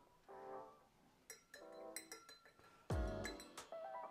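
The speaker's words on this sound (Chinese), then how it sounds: "那我想办法找个东西把它先搅搅拌一下哦。" Quiet, irregular clinks of a utensil stirring cold brew coffee and creamer in a glass, a few sharper taps against the glass, close by with no talk.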